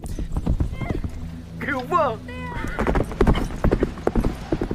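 Horses ridden across desert country, hooves clip-clopping steadily while a horse whinnies partway through, all under continuous narration.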